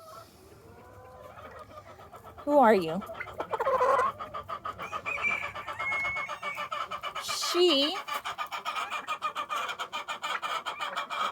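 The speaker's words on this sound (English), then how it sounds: "She's called a naked neck chicken." Naked neck chickens cluck and squawk in a backyard coop, with a hen's rising call and steady nearby clucking under a voice talking.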